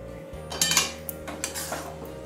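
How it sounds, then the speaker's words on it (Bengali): A lid lifted off a cooking pot of bottle gourd and moong dal, a short metallic clank and scrape of metal against metal, close and fairly soft over a faint steady hum. "ঢাকা খুলে নিলাম।"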